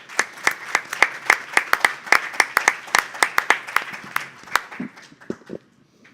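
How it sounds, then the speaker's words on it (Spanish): Applause from an audience at a literary tribute gathering, with sharp distinct claps in a fairly small crowd, strong at first and thinning out to a few scattered claps before it falls silent. "Pido un aplauso para él."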